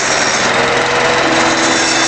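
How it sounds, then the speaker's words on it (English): A small engine powering an electricity generator runs steadily at a settled rhythm, a loud, close, continuous buzzing drone with no pauses. "the engine settled down to a reasonable rhythm."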